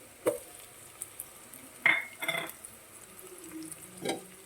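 Chopped ginger and garlic tossed into a hot pan, with a soft sizzle under a few sharp clinks and scrapes of a stirring spoon, fairly close and without speech.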